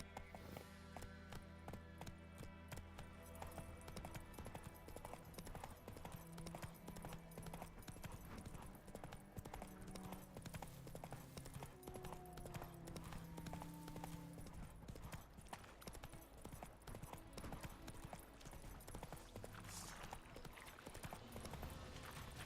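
Hooves of the horse Roach galloping in The Witcher 3: Wild Hunt, a fast continuous clip-clop rhythm under busy game sound and music, steady and fairly loud throughout.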